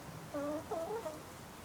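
Chickens cluck nearby in a short burst of two or three quiet, throaty calls over low background noise.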